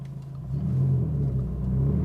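A 2022 Subaru WRX engine running steadily around 2,500 RPM with a Perrin pitch stop installed, a close, low, even rumble that swells slightly after the first half second and holds without talk.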